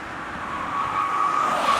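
A car pulls up to be parked, its engine a smooth, close hum that swells gradually louder over a couple of seconds, heard alone without talk.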